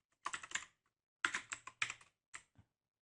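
Tab and Enter keys are pressed on a computer keyboard: a quick cluster of crisp clicks, a pause, then another short run of taps, close and fairly quiet.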